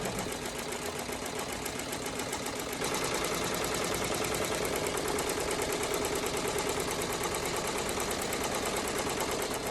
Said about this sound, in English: While this is stitching out